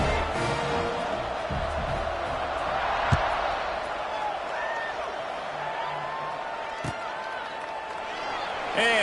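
A stadium crowd in the College Football 26 video game keeps up a steady, distant roar, with a couple of sharp thuds and faint tonal game sounds over it and no talk.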